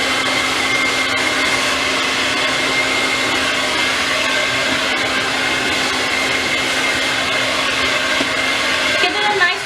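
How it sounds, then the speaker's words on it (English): A blow dryer drying hair runs continuously at close range with a steady loud whooshing hum, heard alone for nearly ten seconds. "You notice how the blow dryer is not touching the hair."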